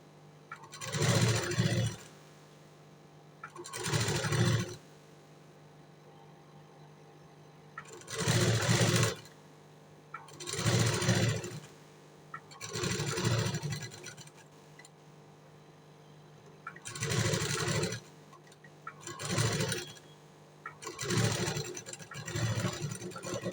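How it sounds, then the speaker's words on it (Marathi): A sewing machine stitches a round neckline on fabric, running in about nine loud, close bursts of a few seconds each, separated by short pauses. "आपल्याला गळ्याची शिलाई फिरवायची आहे राऊंड टाईपमध्ये"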